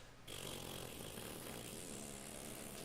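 A loud, raspy engine roar starts suddenly and holds steady, a rough, rumbling exhaust drone heard up close.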